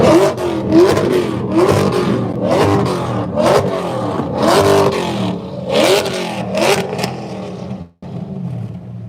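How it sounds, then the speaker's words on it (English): Several car engines rev hard and repeatedly at a busy car meet, loud bursts of revving rising and falling with crowd noise beneath, ending in a brief drop near the close. "something revving like crazy"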